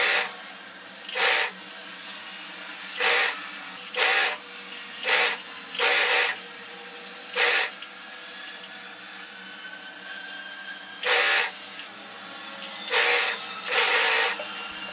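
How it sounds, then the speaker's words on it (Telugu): Sewing machine stitching frills onto a frock, heard as about ten short bursts of whirring motor separated by pauses over a quiet hiss, with no talk. "ఈ ఫ్రిల్స్ని అడ్జస్ట్ చేసుకుంటూ ఇలా స్టిచ్ చేసుకుంటూ వచ్చేసేయండి"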